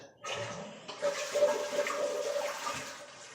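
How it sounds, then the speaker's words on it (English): A newly installed household toilet flushes once, with a sudden rushing gush of water swirling and draining steadily close by, no talking over it. "it's got a decent little flush on it"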